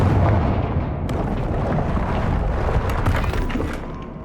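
A Confringo fire-blast spell bursts in Hogwarts Legacy, a loud sustained explosive roar with crackling debris and rumble that slowly fades out.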